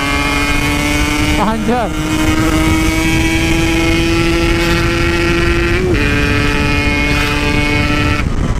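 A Yamaha RX King motorcycle engine with a failing spark plug holds a loud, steady revving drone that stutters and dips twice as it sputters, while a voice briefly exclaims over it.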